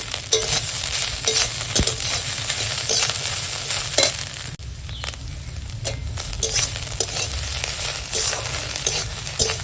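Chopped banana stem fries in oil with ground cumin paste, giving a dense, continuous sizzle up close, with small bursts and scrapes as it is stirred.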